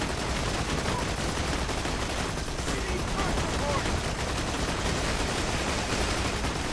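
Gunfire in the Borderlands 2 video game: a dense, continuous barrage of rapid shots and turret fire that stays steady and fairly loud for the whole stretch, with no pause.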